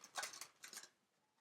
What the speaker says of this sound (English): So let's just shuffle this.